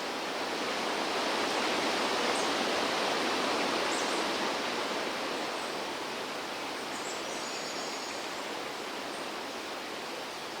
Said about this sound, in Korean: 그 덕분에 만난 건 1년에 몇 번 안 된다는 풍요로운 계곡물이었습니다